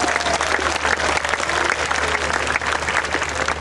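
Applause from a church congregation at a large revival service in a sports hall, a dense, steady wash of clapping from many hands that holds loud and even from start to finish.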